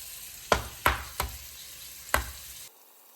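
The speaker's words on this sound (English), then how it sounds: "Let's crack into this egg and see what it looks like" A soft-boiled egg is cracked and its shell broken against a hard surface, four sharp close taps in an uneven rhythm before it falls silent.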